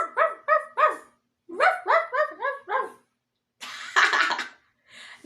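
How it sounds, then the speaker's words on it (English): A white dog's barking in a farm-animal children's singalong, with two quick runs of sharp, closely spaced barks followed by a rougher, breathier bark and a final short yip, each separated by brief silences. "I hear a white dog barking at me."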